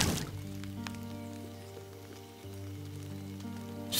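Steady rain falls in Len's Island, a soft continuous hiss of drops spread across the whole moment, sitting under sustained tonal game music.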